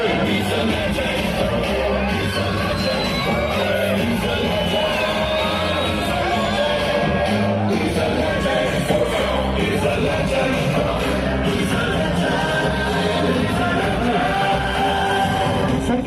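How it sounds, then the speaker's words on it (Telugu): A large crowd at a Dasara 2024 celebration in Proddatur shouts, whoops and yells continuously, loud and dense with overlapping voices. "జనాలు మామూలుగా లేవు కదా, అరుపులు కేకలు మామూలుగా ఉండవు"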